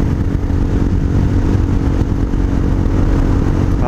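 Honda Hawk 250 motorcycle with an aftermarket exhaust and modified carburetor, heard while riding: a loud, continuous, close engine drone holding steady throughout.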